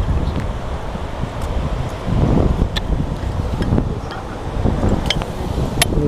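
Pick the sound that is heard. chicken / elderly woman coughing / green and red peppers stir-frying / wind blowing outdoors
wind blowing outdoors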